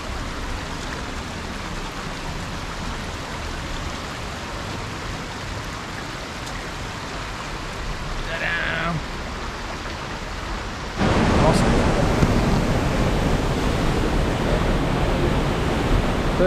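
Kozjak waterfall in Slovenia pours with a constant rushing roar of falling water, steady and close, swelling noticeably louder partway through as if moving nearer the cascade.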